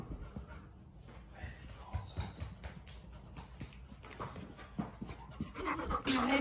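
Fluffy puppies panting close by in quick, rhythmic breaths, with light pattering paw movement and a brief voice in the background.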